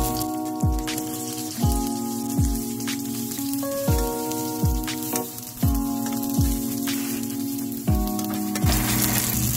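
Eggplant sizzles steadily in a frying pan while it is turned, with a crackling fry under a repeating musical background of plucked notes. There is no talk.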